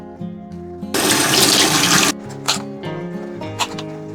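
Tap water runs over green chillies, stems removed, in a home kitchen for a Tamil New Year vegetarian feast lunch. It is a loud steady gush of about a second over background music.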